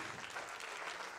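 Quiet, distant applause from the audience at a dance gala in Villa Tigullio, Rapallo, a soft continuous patter of many hands at an even level throughout.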